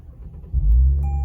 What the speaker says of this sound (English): We've got a nice, easy to find push button start.